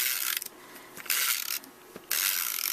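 A Stampin' Up snail adhesive runner rolled across paper for card making, giving three bursts of bright, rasping clicks with short pauses between them, close and fairly quiet with no talking.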